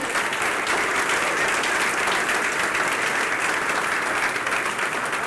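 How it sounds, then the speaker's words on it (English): Audience applause at a college business school naming ceremony: dense, sustained clapping from a large crowd, steady and fairly loud for the whole stretch with no voices above it. "So could you give our students a round of applause"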